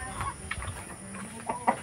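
Rhode Island chickens cluck at feeding time on a farm, sounding as a few scattered short clucks close by over a low background, with no talking.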